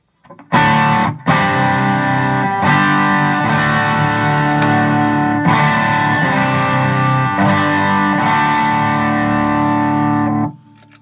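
An electric guitar driven through a Tube Screamer overdrive pedal plays loud, gritty sustained chords, re-struck several times with brief breaks, ringing close and alone before cutting off.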